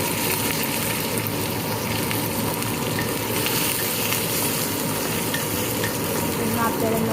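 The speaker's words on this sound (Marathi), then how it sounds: "देऊया राई जिरा हिंग मिरची कढीपत्ता" Mustard seeds, cumin, asafoetida, chili and curry leaves crackling in hot oil for a tempering, a dense, continuous close sizzle with spluttering that holds steady throughout, no clear voice.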